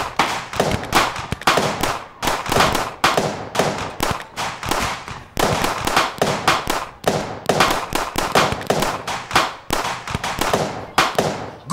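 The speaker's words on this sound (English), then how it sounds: "fire into the hallway for 10 seconds on 4, 3, 2, 1" Sustained gunfire into a hallway, staged as an audio drama effect: dense, rapid volleys of loud cracking shots with brief gaps, continuing for about ten seconds with no talk.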